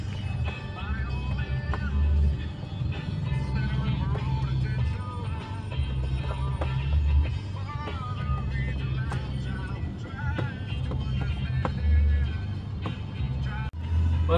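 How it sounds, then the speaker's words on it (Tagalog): Road traffic on a road trip from Pasay to the Sofitel hotel is heard from inside a moving car: a steady low engine and road rumble, with people talking throughout. "Traffic."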